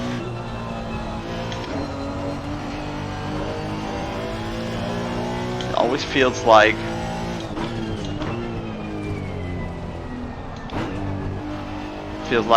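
A Honda NSX race car from 2018 in Assetto Corsa Competizione at Spa holds a steady, loud engine drone with brief revving surges midway, while someone talks over it.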